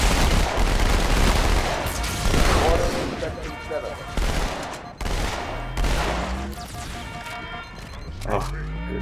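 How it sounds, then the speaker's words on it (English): SMG gunfire in the Halo 2 video game, dense rapid bursts of automatic shots mixed with explosions and crashes, loud and close, with players talking over the battle. "I do like the new sound on the SMGs."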